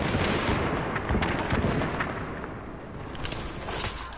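Gunfire in The Division video game sounds as a loud, dense wash of shots and blasts that carries on throughout with no clear gaps.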